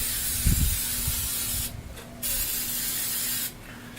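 A long, steady silicone aerosol spray hisses close to the mic in two bursts inside a gun sock, with a brief pause between, followed by another short gap at the end.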